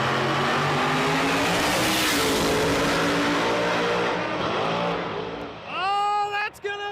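Drag racing cars in a second chance finals race roar loudly, one engine screaming as it accelerates past, then fading while a voice begins talking near the end.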